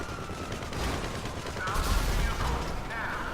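A TM-02 Khanjali tank cannon in GTA blasts a police car, giving dense rumbling explosive bursts with a loud low-end swell around the middle, no voices over it.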